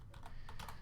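Short burst of typing on a computer keyboard, several quick close key clicks in an irregular rhythm with no voice over them.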